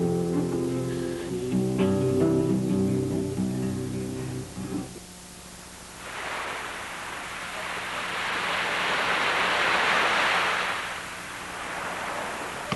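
Sea waves at Laranjeira beach, a broad rushing surf swell that rises and fades after a stretch of music-like tones at the start, fairly loud and close.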